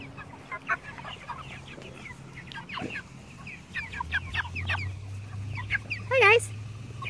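Free-ranging meat chickens clucking outdoors, scattered soft clucks and short calls with one louder squawk near the end, over a low background hum.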